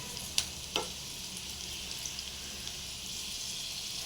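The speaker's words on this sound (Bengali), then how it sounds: "ওর জন্য আলুটা সেদ্ধ করা বলে একটু ভাজাটাও ভালো হচ্ছে" Boiled potatoes fry in hot oil in a pan, a steady close sizzle with two sharp pops near the start and small crackles throughout.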